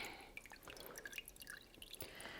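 Water draining and dripping off a brined turkey pulled from the refrigerator, a steady patter of small drips and trickles, quiet and close with no talking.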